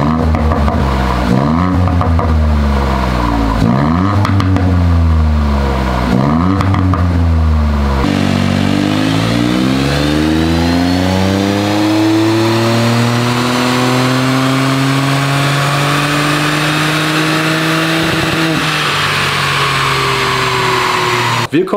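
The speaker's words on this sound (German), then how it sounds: "Den Prüfstandslauf habt ihr gerade gehört." A car engine on a dynamometer revs repeatedly in short rising bursts, then climbs in one long sustained run to high revs, loud and close, before cutting off.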